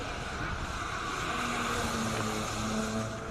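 A Toyota Supra climbs a hill-climb course at a Cape Town speed event, its engine droning steadily at a distance with a rising tone, while a commentator talks over it.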